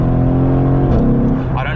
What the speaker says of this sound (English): that sound of the German car is just great. The M157 is a freaking awesome motor.